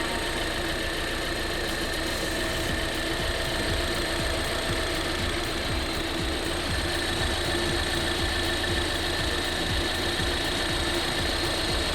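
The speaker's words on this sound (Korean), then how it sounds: "엔진 소리 일정합니다" A BMW Z4 (G29) sDrive20i engine idles steadily nearby, a constant low hum and mechanical whir with no change in pace.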